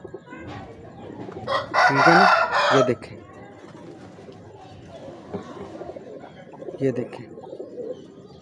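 Imamdeen breed pigeons coo at close range in a loft, with one louder, harmonic bird call rising above the flock for a couple of seconds and low murmuring continuing around it while someone talks intermittently.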